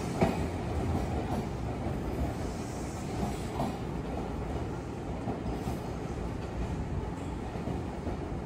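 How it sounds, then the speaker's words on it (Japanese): An Odakyu Line train at Fujisawa, a switchback station, rumbles steadily close by with continuous wheel and rail noise throughout. "このね左側の電車は片瀬江ノ島駅からやってきて、藤沢でスイッチバックして、相模大野の方にね進んでいきます"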